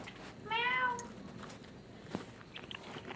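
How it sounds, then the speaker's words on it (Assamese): A pet cat gives a single clear meow near the microphone, short and rising, followed by quiet room sounds and a faint click. "এইটো মেকুৰী।"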